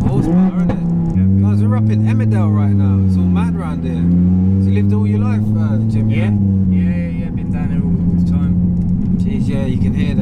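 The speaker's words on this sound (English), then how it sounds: "you can hear the car sounds totally different now" A 900 bhp Audi RS3 8P runs with its exhaust valve opened, giving a loud, steady, droning engine note that swells and eases slightly, while people talk over it close by.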